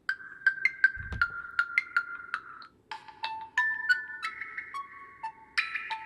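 An Essential PH-1 Android phone ringtone plays a bright electronic melody of short tonal notes in changing pitches, clear and close, with a brief tap near the start.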